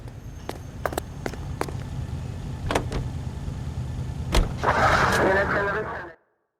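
Car driving in L.A. Noire, a steady low engine rumble with a few sharp clicks and thuds over it, then a brighter burst of noise near the end before it cuts off.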